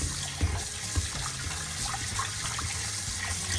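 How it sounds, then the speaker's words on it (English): Two cups of parboiled rice being washed in water, a steady splashing, running-water wash with small clinks and swishes, close and continuous with no talk. "here I have 2 cups of parboiled rice. And I'm just gonna wash it."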